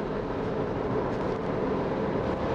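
A flood-damaged BMW 520d diesel engine runs rough, a continuous low droning rumble close by with no voices over it.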